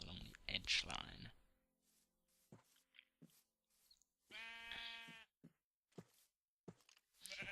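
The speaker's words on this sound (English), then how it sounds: "There are lots of sheep around, I've noticed." Sheep in the Minecraft video game let out a clear drawn-out bleat, with a few short clicks and footsteps scattered around it and a burst of other noise at the start, no talking.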